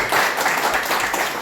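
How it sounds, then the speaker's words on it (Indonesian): Congregation clapping during a Sunday church worship service, a dense, steady burst of applause filling the hall for the whole moment, loud and close. "Tepuk tangan yang meriah"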